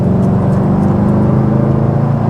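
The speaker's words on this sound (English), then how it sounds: "But when I floor it" A Chevrolet Camaro engine with a suspected transmission fault is floored at full throttle, giving a steady, loud, continuous drone that holds its pitch instead of climbing, close and unbroken for a couple of seconds.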